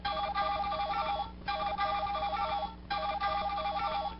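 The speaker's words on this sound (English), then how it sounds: "The green connect button makes this sound." A Henshin Keitai Shodou Phone toy's green connect button plays a bright, warbling electronic tone pattern, repeated three times back to back at close range.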